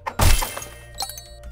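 Clay pots being smashed in the video game Secrets of Grindea: one loud, close shattering burst, then a few lighter breaking clinks and thuds trailing off over a soft background hum.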